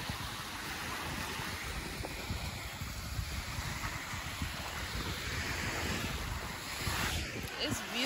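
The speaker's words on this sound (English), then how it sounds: "just listen to the water" Ocean waves wash steadily along a beach with oil rigs offshore, a continuous broadband surf roar mixed with wind buffeting the microphone, loud and close throughout with no clear voices.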